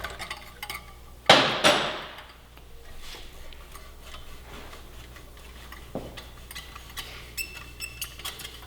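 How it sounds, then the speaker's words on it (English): A 12 mm socket on a T-handle loosening the stock exhaust clamp on a 2018-2023 Kawasaki Ninja 400: two sharp metallic clanks up front, then a quieter clunk and a series of light ticking clicks as the tool turns. "Got a 12 mil socket now on the T-handle. Go ahead and loosen up that stock clamp."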